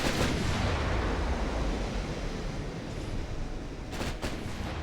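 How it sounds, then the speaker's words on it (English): Naval gunfire from an enemy warship in a pocket-battleship-versus-destroyer naval battle game: a dense, continuous booming rumble with rolling low-end blasts, steady and loud throughout, with a couple of sharper cracks near the end. "now he's starting to shoot back finally"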